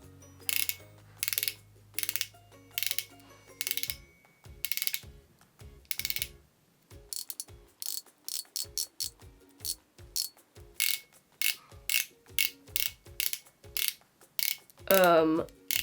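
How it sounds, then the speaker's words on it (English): Ratcheting clicks come from a twist-up makeup applicator being turned again and again, bursts of small plastic clicks separated by short pauses, close and crisp, with a brief squeak near the end and no speech. "So it's got one of these applicators where you twist it."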